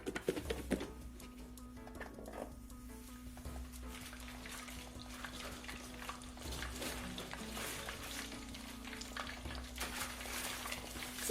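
Battered shrimp frying in oil, a soft continuous sizzle and patter with a steady low hum beneath, quiet and even throughout, with no talking.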